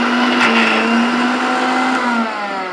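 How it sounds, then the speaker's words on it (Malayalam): A mixer grinder whirs through fresh coconut for Kerala-style thenga chammanthi, giving a loud, close, sustained motor whine whose pitch sags slightly as it runs. "നമുക്കിതൊന്ന് ഇനി ഒന്നും കൂടി അടിച്ചെടുക്കാം."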